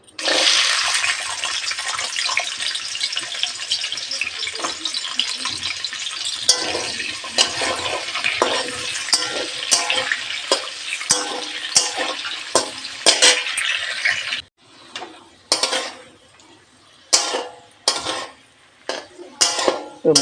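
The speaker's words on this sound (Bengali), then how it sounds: "তো এখন মূলোটা ভেজে নেব।" Radish frying in a pan: a dense, steady sizzling hiss runs for about fourteen seconds with faint utensil taps, then gives way to sparse, separate metallic clatters of a spatula against the pan.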